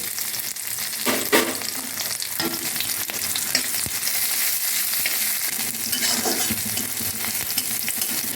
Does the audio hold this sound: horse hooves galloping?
no